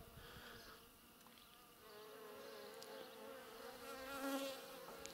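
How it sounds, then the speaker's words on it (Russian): Domestic honey bees, stirred up as someone walks among their hives, buzz in a continuous faint drone, with individual bees swelling louder as they pass close by. "Ну, в общем, пчелы активизировались, пока я у них тут хожу."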